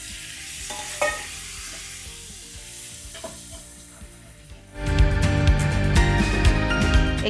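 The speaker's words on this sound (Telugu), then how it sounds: "ఎగ్స్ వేసి స్టవ్ మటుకి పెద్దగా పెట్టి ఎగ్స్ని ఇందులో ఫ్రై చేయాలి" Eggs fry in oil mixed with garam masala and coriander powder on high heat, a quieter sizzle with spatula clinks that suddenly swells into a loud, crackling roar partway through.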